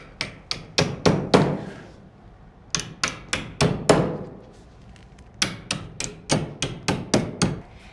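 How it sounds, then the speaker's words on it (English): A hammer strikes metal in three quick bursts of sharp, ringing blows, flattening door frame brackets, each burst five or six hits, with short pauses between. "take her hammer on the other side and flatten the brackets"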